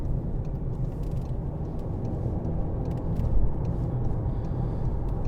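A 2017 Volkswagen Golf 2.0 TDI BlueMotion Tech GT diesel hatchback accelerates, heard from inside the cabin as a steady low engine and road rumble that swells briefly partway through, with no talking.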